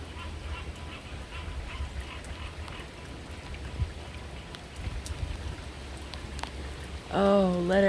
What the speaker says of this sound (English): Oh, let it rain.